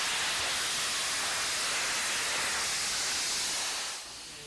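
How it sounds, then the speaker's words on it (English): A Canadian Pacific steam locomotive running on a line in England gives off a steady, loud broadband hiss of steam for about four seconds, then the roar drops away abruptly near the end. "A Canadian Pacific steam train built by women during the Second World War is back"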